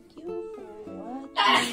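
A sneeze bursts out loudly at the end, straight after someone talks, in a home garden in Kansas.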